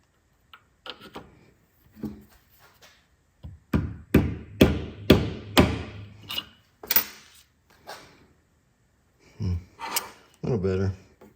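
A Sanborn shop air compressor under restoration is set down and shifted, producing a run of hollow metallic thuds and clunks up close, with quieter knocks before and after.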